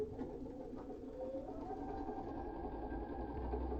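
A sewing machine runs a steady quarter-inch seam on a quilt block, a continuous close hum that slows slightly toward the end, with no talk over it.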